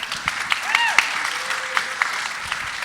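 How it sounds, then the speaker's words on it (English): Light audience applause at a political talk, thin scattered clapping mixed with voices and crowd murmur, fairly brief and not very loud. "Give him a round of applause."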